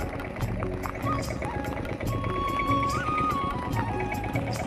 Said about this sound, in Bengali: আজকে মাটির কাজ করে নেওয়া হচ্ছে পাওয়ার টিলার দিয়ে।